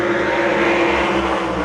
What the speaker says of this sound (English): They're going to punch the throttle. We're underway.